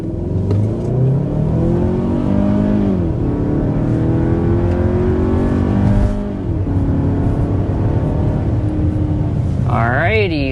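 A 2027 Kia Telluride with a turbocharged four-cylinder accelerating hard to 60 mph, a loud steady engine drone rising in pitch through the gears, ending with a quick rev change.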